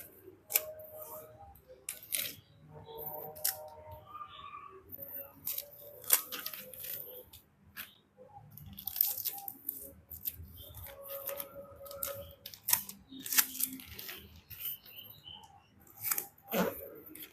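Packing tape is pulled and pressed onto a wrapped foam mattress in a series of sharp ripping and crackling bursts with scraping handling noises, close by, separated by short quiet gaps.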